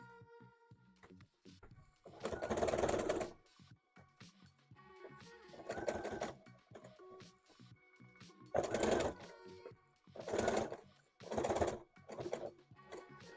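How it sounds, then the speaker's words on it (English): A sewing machine stitches a fabric ear onto a Pokemon hat through many layers of fabric. It runs in several short bursts of rapid whirring, separated by pauses with faint background sounds, and no one speaks. "I'm sewing this ear on, but we're going through a whole lot of layers of fabric"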